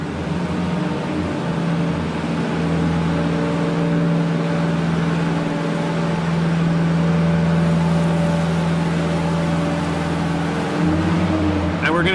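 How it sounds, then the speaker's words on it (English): A Genie boom lift's engine runs steadily with a low, constant drone, its pitch shifting slightly near the end as the boom is raised; a voice talks over it. "So we're going to start the engine back up."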